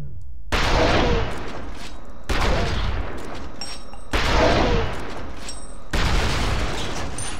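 Automated turret in the shooter game F.E.A.R. firing four loud, close bursts of rapid gunfire, each lasting a second or more, separated by short pauses.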